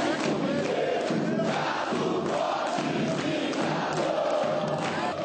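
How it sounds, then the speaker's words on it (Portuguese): Packed city council chamber in Belo Horizonte filled with organized fans chanting and cheering, a dense, loud and continuous roar of many voices like a stadium crowd with rhythmic shouts throughout. "O plenário da Câmara Municipal de Belo Horizonte ficou lotado, com direito a faixas, torcida organizada e em alguns momentos pareceu até um estádio."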